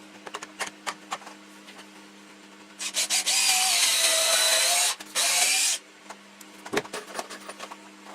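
A cordless drill drives wood screws into timber for a small garden table, two sustained whirring bursts followed by scattered taps and clicks of handling.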